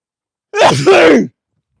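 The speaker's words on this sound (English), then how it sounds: "I need to sneeze, guys." One person sneezes up close, a loud two-part burst with a sharp intake giving way to a forceful explosive exhale, lasting under a second, then silence.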